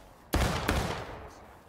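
Two close, booming musket shots ring out in the Civil War shooter War of Rights, the second about a third of a second after the first, each trailing into a long rolling echo.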